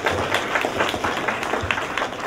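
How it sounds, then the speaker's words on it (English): Audience applause at an awards ceremony, a continuous full burst of clapping from a sizable crowd, loud and steady through the moment with no talk over it. "Round of applause for Chris and Mr."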